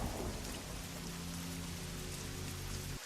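Steady heavy rain pours down alone under a broad, continuous hiss, with a low rumble of thunder rolling underneath before fading out abruptly.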